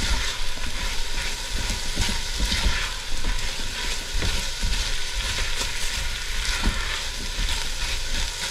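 Pumpkin, garlic and ginger fry fiercely in a pot over high heat, a loud continuous crackling sizzle with dense popping, close and alone throughout.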